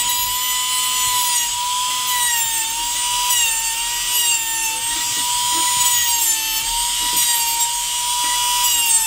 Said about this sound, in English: And use my Dremel tool again to cut up the shaft.